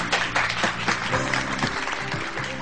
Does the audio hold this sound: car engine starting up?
no